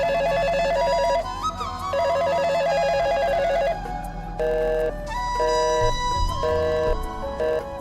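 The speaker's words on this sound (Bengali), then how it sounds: "জয় মোবাইলে কল আসলো।" A mobile phone rings with an incoming call, a repeating electronic ringtone pattern played in bursts with brief pauses over background music.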